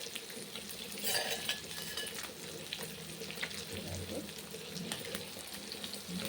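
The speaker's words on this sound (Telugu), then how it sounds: "ఇదిగోండి చేప ఫ్రై అయింది, ఆపేస్తున్నాను." Fish frying in a pan, a steady, moderately quiet sizzle with scattered crackles and a few clinks of stirring, continuous throughout with no talk over it.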